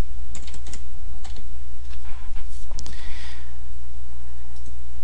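Rapid, crisp keystrokes on a computer keyboard as a password is typed, in short irregular bursts with brief pauses, close and clear over a steady low hum.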